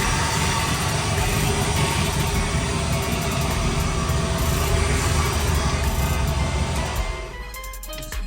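A 1972 Chevrolet Impala with an LS engine swap idles loudly and steadily close by, its running note holding for about seven seconds before it is shut off and the sound drops away.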